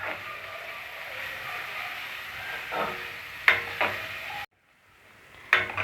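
Chopped onions sautéing on low flame for ginger chicken gravy, a quiet steady sizzle with a few sharper scraping stirs near the end, broken by a brief silent gap.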